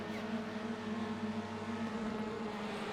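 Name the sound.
race cars revving up and starting the race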